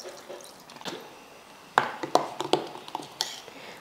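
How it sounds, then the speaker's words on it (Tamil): Water is poured into a mixer jar holding green chutney ingredients of chilli, mint and salt for grinding, giving scattered drips, splashes and light clinks against the jar in a quiet kitchen. "தண்ணி ஊற்றி அரைச்சிடலாம்."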